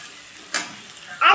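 Prawns for malai curry sizzle in a pan with turmeric powder, a quiet frying hiss broken by a short scrape and a brighter sizzle burst near the end.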